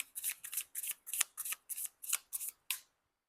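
Tarot cards riffle in about ten quick, evenly spaced shuffling bursts, close and crisp, ending abruptly in silence.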